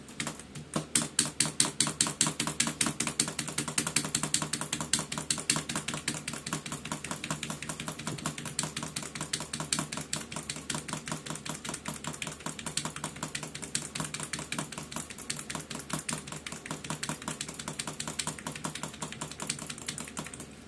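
Rapid, steady clicking of PS/2 computer keyboard keys during PC video game play, a dense continuous patter of keystrokes at close range with no talking.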